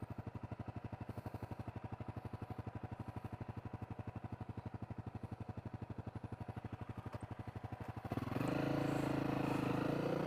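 A Honda CRF250L dual sport motorcycle being ridden: a steady, fast-pulsing single-cylinder engine thrum held at an even pace, then rising into a louder, harsher roar with added wind and road noise near the end.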